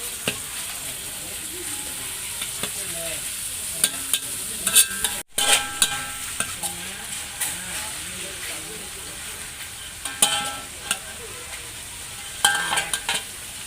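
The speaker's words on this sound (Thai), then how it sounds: "ผัดให้เนื้อสุกก่อนให้เนื้อหมูสุกก่อน ผัดให้เนื้อหมูสุกนะครับ" Pork stir-fried in a pan sizzles steadily throughout, with repeated scraping and clacking of a utensil against the pan, close and continuous, while someone talks over it.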